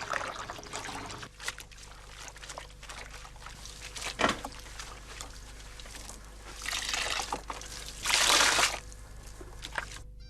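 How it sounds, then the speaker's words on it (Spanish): Cold water poured into a wool dye bath, continuous trickling and splashing with louder pours near the middle and toward the end, close and fairly loud. "Ahora añado un poquitín más de agua fría"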